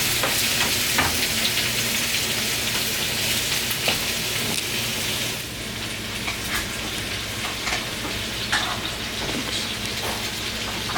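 Vegetarian pasta sauce with tomato cooks in a pan with a steady, close sizzle and scattered pops and crackles that run on without a break and with no voices.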